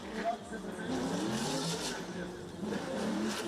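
A drift car racing through a qualifying round in Indonesia, engine droning and revving steadily while the throttle lifts through a transition, heard at a distance with tire noise and a commentator talking over it.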